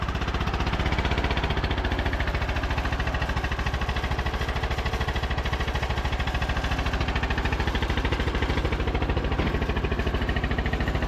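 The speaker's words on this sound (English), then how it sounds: "You guys can hear the little backfires when you bring the throttle down." A riding lawn mower engine runs with a rough, steady mechanical chug, loud and close, as the throttle comes down; small backfire pops are not clearly separable from the continuous pulsing drone.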